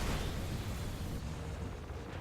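Missile launch and explosion in the space-combat game Star Citizen: a dense, sustained low rumble with continuous roaring energy through the whole stretch, steady and loud with no talk.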